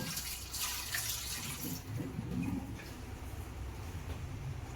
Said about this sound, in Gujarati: થોડું પાણી લઈને એને બરાબર રીતે ધોઈ કાઢવાનું.